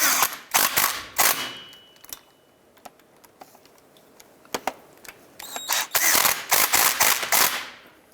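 A ratchet tightens flange bolts on the CV joint of a 2002-2007 Jeep Liberty, heard as close, loud bursts of rapid clicking separated by short pauses, with no talk.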